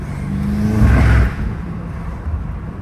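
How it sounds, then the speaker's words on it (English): A BMW M5 Competition engine hums near the microphone and swells briefly as it accelerates, with a short whirring rise from the turbo before settling back to a steady drone. "that freaking turbo spool is nothing"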